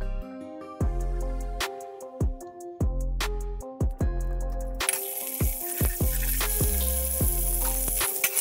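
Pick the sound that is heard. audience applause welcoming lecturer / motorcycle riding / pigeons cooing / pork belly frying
pork belly frying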